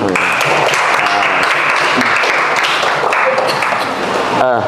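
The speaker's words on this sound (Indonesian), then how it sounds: "Ya, tepuk tangan dulu." A classroom of students applauds during an Islamic banking lesson, with loud, continuous clapping from many hands at a steady level throughout and children's voices audible within the noise.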